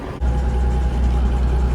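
The diesel engine of a Peterbilt 359 truck under restoration runs steadily nearby, a continuous deep rumbling drone with a faint tonal hum and no pauses.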